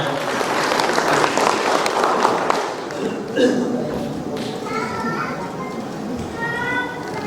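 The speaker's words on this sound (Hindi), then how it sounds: "इनके लिए जोरदार तालियां हो जाए." Applause at the Heroes of Lockdown awards ceremony at ITC Royal Bengal: a dense burst of crowd clapping that fades after a few seconds. Faint tones and background sounds follow.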